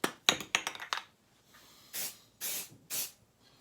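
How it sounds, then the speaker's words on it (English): Ease Release 200 sprayed onto a piece of PVC foam board, with a few clicks and rattles followed by three short, close hissing spritzes spaced evenly apart. "I'm also just going to give it a spritz of"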